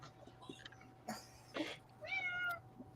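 A cat lets out a few short, close meows, the clearest a drawn-out cry near the end, over a faint steady hum in a quiet room.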